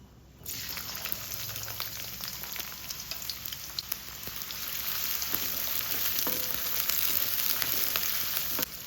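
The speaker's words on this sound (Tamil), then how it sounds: "சின்ன வெங்காயம் கட் பண்ணி வச்சுருக்கேன், சேர்த்துக்கிறேன்." Small onions dropped into hot groundnut oil in a kadai, a sudden loud sizzle that settles into steady crackling frying and grows slightly stronger toward the end.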